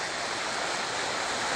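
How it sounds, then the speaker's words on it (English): Water splashing in a continuous broadband rush, like a small waterfall or fountain, steady and close throughout the short moment. "let's see what kind of detail we get in a close-up of the splashing water"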